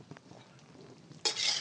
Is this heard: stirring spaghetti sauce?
yes